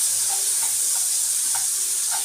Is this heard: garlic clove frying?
yes